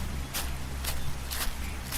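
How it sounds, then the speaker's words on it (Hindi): Footsteps on a soft, damp path of mud and storm-fallen leaves, four broad scuffing steps at a slow, even pace over a low steady background rumble. "मृदुल चल ही रहा था कि उसे पीछे से एक आवाज सुनाई दी"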